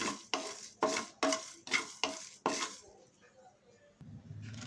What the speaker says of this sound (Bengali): আমি এবার মশলাটাকে খুব ভালো করে একটু ভেজে নিচ্ছি